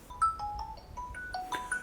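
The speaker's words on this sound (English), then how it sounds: "I hear ringing in the earpods as well" Phone ringtone heard through Blackview Airbuds 3 earbuds: a faint, quick run of short electronic tones repeating in a tinkling pattern, with no talking.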